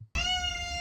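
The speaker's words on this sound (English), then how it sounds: "There can't be that many videos on the internet of funny cats meowing." A single cat meow, short, bright and clearly tonal, heard close and alone after a brief moment of silence.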